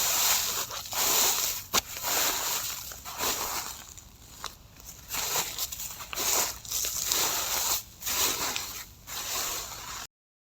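Frozen, frost-covered plants crunching and snapping under body weight, with brittle ice crystals crackling in a steady series of close, crisp crushing sounds and no voices.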